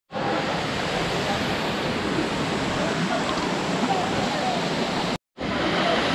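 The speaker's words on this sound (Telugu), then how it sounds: "bye for this beautiful water falls" A large waterfall in Kerala roars as a steady, loud broadband rush of falling water that fills the whole clip, breaking off for a brief silent gap near the end before resuming.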